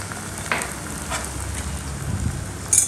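Egg frying in a pan for an egg tadka, a continuous close hiss of oil with a few soft spatula touches and a brighter crackle near the end.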